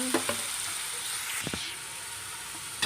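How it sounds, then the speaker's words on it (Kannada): Onions and tomatoes frying in oil in a kadai for village-style egg masala, a steady close hiss with a few brief utensil scrapes and knocks. "ಇವನ್ನೆಲ್ಲ ಮಿಕ್ಸ್ ಮಾಡಿಕೊಂಡು ಫ್ರೈ ಮಾಡ್ಕೊಳ್ತೇನೆ"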